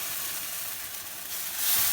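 Mushroom pasta sauce seasoned with pepper sizzles steadily in a pan while being stirred, a close, even hiss that swells slightly near the end.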